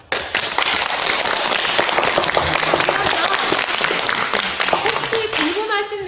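An audience at a health lecture for a visually impaired association claps hard and steadily, a dense wash of hand claps that tapers at the end as a voice starts speaking over it.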